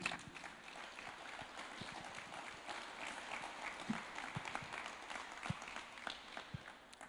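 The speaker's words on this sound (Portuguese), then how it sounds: "Uma salva de palmas para Jesus." Church congregation clapping during a Thursday worship service, a steady wash of applause with scattered individual claps, fairly quiet and distant throughout.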